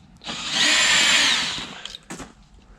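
A power drill whirs steadily for about a second as it backs screws out of a storm door, then stops, followed by a few short clicks and handling noises close by.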